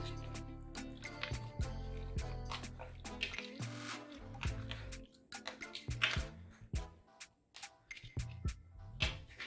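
Water poured into a pot of green beans and stirred, close trickling and dripping with wet squishes and light clinks from the spoon, irregular and fairly quiet.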